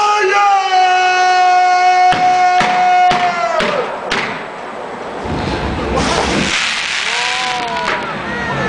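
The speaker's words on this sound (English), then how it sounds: "Men, on my command, fire all cannons." Ship cannons firing, a string of sharp close booms landing in quick succession after a held sung or shouted note, then a rumbling roar with voices rising over it.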